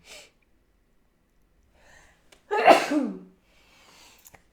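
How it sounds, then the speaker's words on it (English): A single sharp sneeze bursts out close by, preceded by a faint intake of breath, with near silence around it. "I'm sensing a sneeze coming on."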